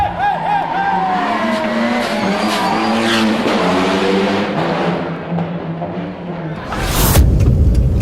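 A first-generation Mitsubishi Lancer Evo RS, a former race car, accelerates hard with a loud rising engine note through several gear changes, ending in a brief burst of tire or wind noise.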